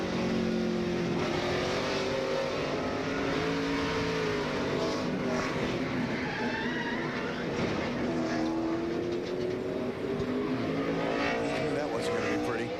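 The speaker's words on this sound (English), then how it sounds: "Let's go on board with Shane Meal and listen" Race car engine heard on board during a NASCAR-style race with a Fitz-Bradshaw Racing car, a steady loud drone with shifting pitch through the whole stretch, and a commentator talking over it.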